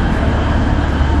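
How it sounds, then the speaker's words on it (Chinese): The Alishan small mountain train arriving, a loud, close, continuous low rumble of rolling rail cars with no break, heard alone. "来了， 就 要坐小火车了。"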